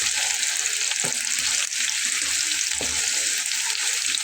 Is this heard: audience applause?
no